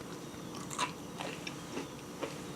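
A bite into a banana muffin with a lacy, crispy, crumbly brown-sugar topping gives a few close, crisp crunches and chewing sounds, with no talking.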